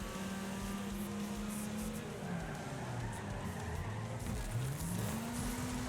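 A race car engine in the Wreckfest game drones steadily, its pitch sagging and climbing again as the car slides and accelerates, over constant tyre and road noise.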